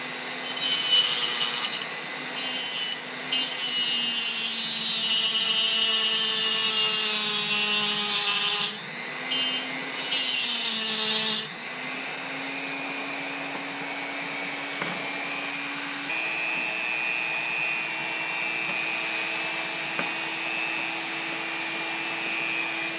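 Dremel rotary tool cutting scrap silver clamped between two blocks of wood, a loud high-pitched whine whose pitch shifts with load, broken by short pauses where the motor restarts, with no voices.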